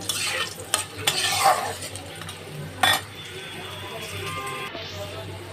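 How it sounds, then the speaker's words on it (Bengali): Spice tempering frying in oil while a spoon stirs it in a pan, with a few scraping clatters and bursts of sizzle over a low steady hiss that fades near the end, up close. "ফোড়নটাকে একটু লাল লাল করে নেব দুটো একসাথে নেড়ে নেব"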